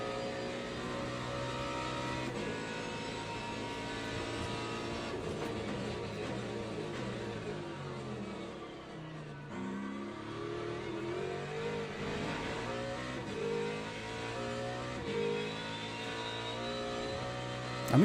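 Ferrari GT3 race car engine in Le Mans Ultimate, loud and sustained, revs climbing and dropping through gear shifts, another car's engine note overlapping mid-way, no talk.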